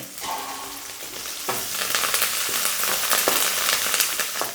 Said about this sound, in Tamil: வெங்காயம் வதங்கிக்கிட்டே இருக்கும்போது அப்படி ரெண்டு கொத்து கருவேப்பிலை சேர்த்துக்கிறேங்க